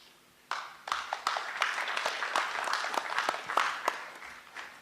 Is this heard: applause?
yes